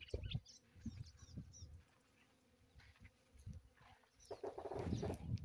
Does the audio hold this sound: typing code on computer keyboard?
no